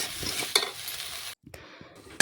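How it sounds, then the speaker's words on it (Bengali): Chicken pieces and tomato being stirred in a pan, with a scraping spatula and soft sizzle, a brief near-silent break midway, then stirring resumes and ends on a sharp clack. "নাড়াচাড়া করে আমি বেশ কিছুক্ষণ একটু রান্না করে নিচ্ছি"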